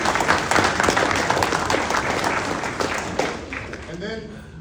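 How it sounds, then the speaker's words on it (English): Guests at a high school football awards banquet give a warm round of applause, a dense patter of clapping that holds steady and then fades, with a voice coming in near the end. "we go give him a round of applause"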